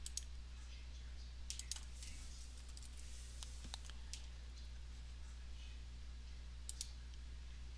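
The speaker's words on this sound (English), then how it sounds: "Let's just start typing his name." Keys tapped on a computer keyboard in short, faint bursts of clicks separated by pauses, over a steady low electrical hum.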